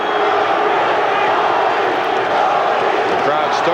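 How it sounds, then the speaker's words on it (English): A boxing arena crowd roars and cheers loudly and steadily during a fight, a dense wash of voices with no break. "The crowd starts again."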